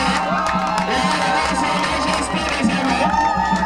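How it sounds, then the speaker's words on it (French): A crowd cheers and acclaims the installation of a traditional chief for the Etoundou canton, with notables and chiefs present. The sound is a steady, dense roar of voices with tonal, sung or ululating cries running through it for the whole stretch. "Sous vos acclamations,"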